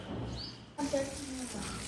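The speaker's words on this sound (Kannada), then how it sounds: "ನೀರು ಆಫ್ ಮಾಡು ಅಂತೀನಿ, ಅವಾಗ ಆಫ್ ಮಾಡು, ಸ್ವಲ್ಪ ಕಮ್ಮಿ ಮಾಡು ನೀರು" Running tap water splashes onto dry potted plants, a steady close hiss that grows louder after a brief pause, with a voice speaking over it.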